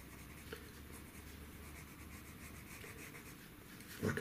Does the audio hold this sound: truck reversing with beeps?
no